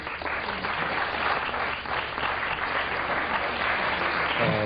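Lecture audience bursts into steady, dense applause that holds at full strength throughout, close and loud, with no voices over it.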